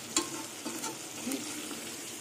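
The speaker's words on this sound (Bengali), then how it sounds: "দেখুন কিছুক্ষণ পর পর অল্প করে জল দিয়ে দিয়ে মশলাটা কষিয়েছি।" Spice paste frying in oil for steamed fish, a steady close sizzle with a few scraping stirs, no talk.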